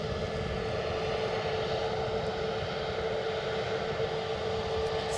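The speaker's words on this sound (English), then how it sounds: "It's an EasyJet from Berlin coming in." An EasyJet passenger jet arriving at Edinburgh Airport gives a steady, continuous engine roar with a constant drone and no talk over it.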